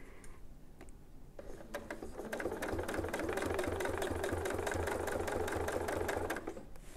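A sewing machine quilts a clamshell pattern along a Westalee Design template, its fast, even stitching rattle starting softly and building to a steady close run before easing off at the end.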